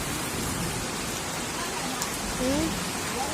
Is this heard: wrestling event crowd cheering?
no